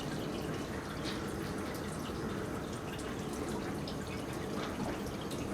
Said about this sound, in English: start sparging with a little bit not so hot water